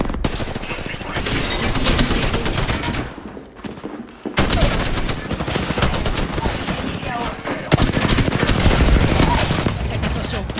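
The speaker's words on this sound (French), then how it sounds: "J'ouvre le feu" Machine guns fire in rapid automatic bursts during an Apex Legends firefight, loud and close, with brief gaps between strings of shots and voices speaking at times.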